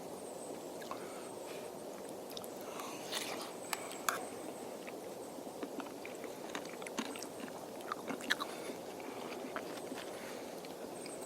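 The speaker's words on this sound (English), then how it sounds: "And the crunch of those Doritos." Nacho cheese Doritos chips being crunched and chewed close to the ear, an irregular run of crisp, sharp bites and munching over several seconds with no talk.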